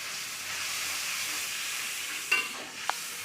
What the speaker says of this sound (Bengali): এখন একটু ভালোভাবে কষাবো।